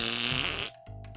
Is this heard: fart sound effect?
yes